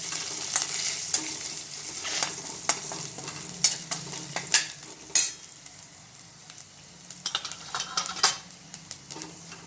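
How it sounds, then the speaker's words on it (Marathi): Hot oil sizzles and crackles up close as something is stirred, with scattered sharp clinks of a spoon against the pan. "थोडीशी फोडणीला कोथिंबीर देखील, कारण यामुळं थोडासा स्वाद चांगला येतो भाजीला"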